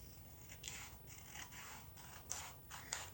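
Scissors snip through paper while cutting out a Halloween paper lantern craft, several short crisp cuts in an irregular rhythm, close and fairly quiet with no talk.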